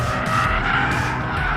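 An Abarth 124 Spyder with a limited slip differential slides, its tires squealing in a sustained skid over a steady engine drone, loud and close.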